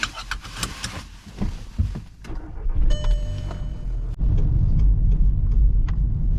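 A car engine starts and the vehicle pulls away, a low rumble building after a few clicks and thumps, then holding as a steady close engine drone.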